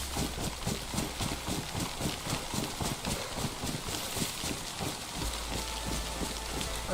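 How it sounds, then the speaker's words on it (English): Steady, dense rainfall in the survival game DayZ, a continuous hiss of heavy rain pattering evenly with a rapid, rhythmic texture throughout, no voices. "when it's pissing down with rain, it's harder for zombies to detect you"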